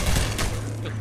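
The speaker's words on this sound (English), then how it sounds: "Who else is shooting?" Burst of gunfire from the video game Half-Life 2: dense, close shots packed into about a second over a low rumble, with no voices.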